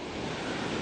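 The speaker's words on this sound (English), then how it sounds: "And there's the Pacific Ocean" Pacific Ocean surf rolling onto the Olympic National Park seashore on a foggy morning, heard as a steady, broadband wash of waves with wind rumbling across the microphone and no voices.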